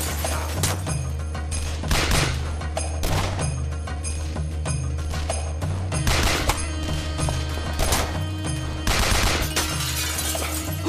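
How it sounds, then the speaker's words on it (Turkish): Loud gunfire bursts crack out again and again through an 11-second stretch in a tense Turkish drama, dense and near, riding over a steady low droning bed with no talk. "Abi kurşun sesinden tırstık."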